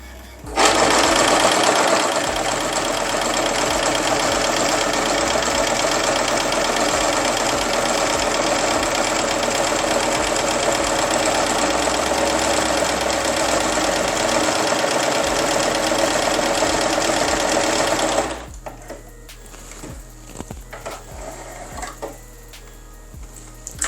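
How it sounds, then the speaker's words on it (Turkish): A Moonstar 990P home sewing machine stitching a wave pattern, a loud rapid steady mechanical whirr running nearly uninterrupted before stopping, followed by quieter handling noises. "Dikişe başlıyorum."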